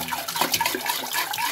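Water sloshes and rushes steadily inside a steel drinking-water can as it is rinsed out, a close, continuous splashing wash without pauses.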